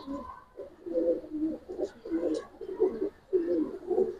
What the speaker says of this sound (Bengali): কাজ করা কবুতর।